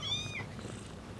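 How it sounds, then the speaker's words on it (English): Kittens in a TV advert: a single short, high meow at the start, then soft continuous purring close up. "Yeah, but these are kittens."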